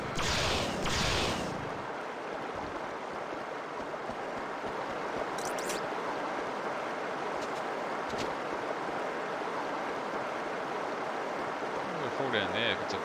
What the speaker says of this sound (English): Water flow's pretty strong.